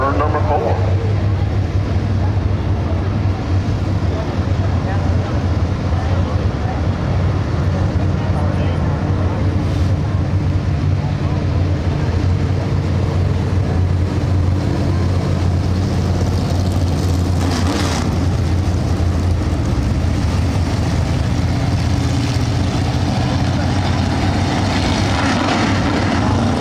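Super Street race cars in a heat race at Golden Isle Speedway roar continuously around the track, a loud, wind-buffeted engine drone under an announcer's commentary.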